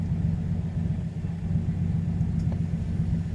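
A single-turbo Nissan R32 GTR cruises off boost with a loud, steady low engine drone and rumble, running continuously up close inside the car. No one speaks over it.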